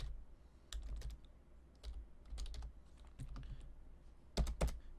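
Someone types on a computer keyboard while writing AngularJS code, producing irregular bursts of close, crisp key clacks separated by short pauses.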